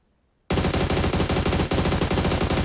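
Automatic gunfire in the video game PUBG Mobile bursts in after a brief silence, a rapid, continuous stream of loud close shots with only a short break before firing resumes.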